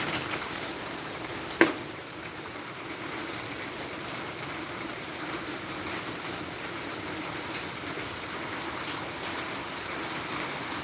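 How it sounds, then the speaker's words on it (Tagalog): Steady heavy rain pours down in a broad, even hiss that holds for the whole stretch, with one brief sharp knock early on and no talking. "Hirap talaga pagka umuulan mga boss."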